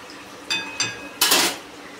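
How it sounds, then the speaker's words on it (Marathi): A metal spoon clinks against a pan while turning and lifting fried karanji out, two light taps followed by a louder scraping clatter, close and alone. "चमच्याने तुम्ही अशी पलटी मारून नंतर काढते चालते."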